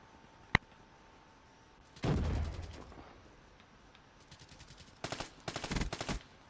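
XR2 rifle fire in the Black Ops 3 multiplayer beta: a single sharp shot, then a burst of rapid shots, a pause, and several more quick three-round bursts, loud and close.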